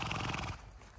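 Horses at a stable in Uchtepa, Tashkent, neigh loudly and close by in a short burst with a faint hoof clatter, the whinny fading toward the end.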